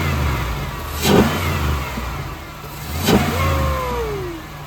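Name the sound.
Impala SS engine revving with K&N cold air intake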